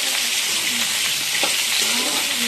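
Potatoes fry in oil left from frying fish, seasoned with nigella seeds, producing a close, steady sizzle with faint stirring touches throughout.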